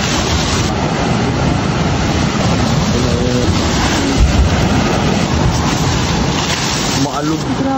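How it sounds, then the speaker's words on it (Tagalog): Large waves from Typhoon Tino crash near a coastal road, a loud, continuous roar of surf and spray that never lets up, with heavier surges breaking through now and then. "Grabe yung alon."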